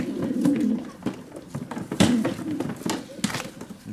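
Racing pigeons of the Janssen line coo in low, throaty bursts at close range, several rolling calls repeating over a few seconds with brief rustling between them.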